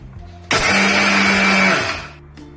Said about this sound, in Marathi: आता मी तीळ बारीक करून घेते